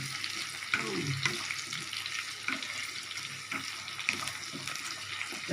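Tomato frying in a pan while being stirred gives a steady close sizzle with soft scraping strokes recurring every second or so, no voices.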